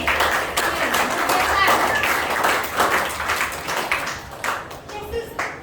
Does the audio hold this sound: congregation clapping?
yes